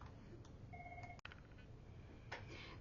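A telephone gives a short electronic beep, a steady two-tone note lasting about half a second, over a low background hum with no talking.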